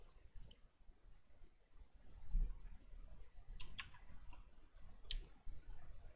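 A computer mouse in the Unreal Engine editor gives a few faint, scattered sharp clicks over a quiet low background hum, with irregular gaps between them.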